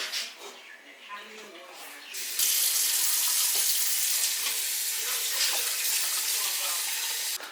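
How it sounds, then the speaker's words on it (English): Cold tap water gushes from a faucet onto boiled sweet potatoes in a sink, a loud, steady broadband rush starting abruptly after some quieter clatter and running several seconds. "you actually want to pour cold water on them pretty much immediately"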